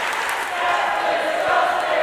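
Wrestling arena crowd reacting loudly at a WWE ID event, a continuous swell of shouting and cheering voices with a few sharper outbursts.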